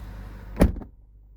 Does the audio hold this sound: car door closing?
yes